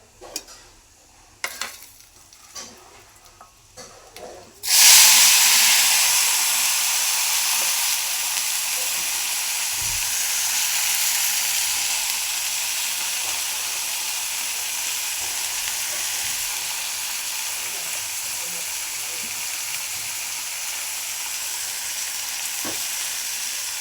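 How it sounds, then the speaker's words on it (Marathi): Chopped cabbage drops into a hot pan with turmeric and bursts into loud, close sizzling that starts abruptly after a few quiet clinks, then settles into a steady frying hiss with occasional stirring. "आणि आता कोबी टाकायचा आहे"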